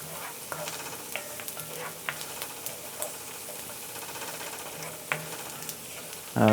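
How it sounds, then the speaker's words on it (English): Ingredients for Damietta-style fuul sauté in a pan with a soft, steady sizzle, broken by occasional light scrapes and clinks of stirring, ending with a louder clatter. "I'm going to saute these together a little bit"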